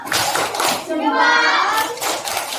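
Children in a classroom doing a rhythmic thumb-clap cheer, a few quick bursts of clapping with a short sung or chanted vocal in between.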